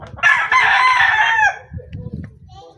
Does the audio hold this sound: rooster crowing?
yes